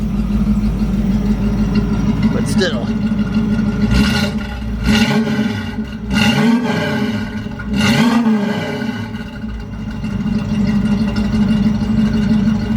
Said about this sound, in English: she fires right the hell up and purrs